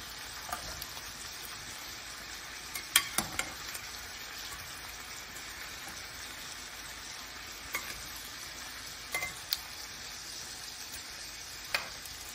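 Shrimp sizzling in a frying pan for a seafood boil, a steady crackling fry punctuated by a few sharp clacks as the pieces are tossed and stirred, close and unaccompanied by speech.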